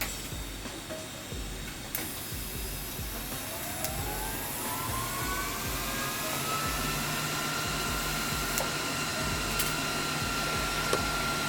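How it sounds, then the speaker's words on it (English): Welding on reproduction vintage BMX frame parts gives a steady, close hiss with crackling ticks for the whole stretch and a faint rising whine partway through, with no talking. "there's still some welding, so I'm just gonna let him finish."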